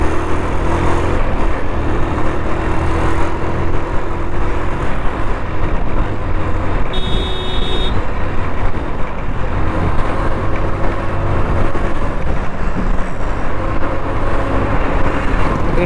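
Heavy city traffic in the Guindy area of Chennai, heard from inside a moving vehicle as a steady, loud, broadband road rumble with engine and tyre noise throughout and no speech.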